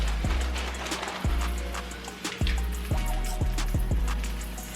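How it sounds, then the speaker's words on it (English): Rice being rinsed in water while a vegan brown stew and spinach rice are prepared at home, with steady watery sloshing and a few sharp splashes or drips cutting in at irregular intervals, close by and with no talking. "I'm gonna take the rice now and start to prepare it. So I'm going to rinse it."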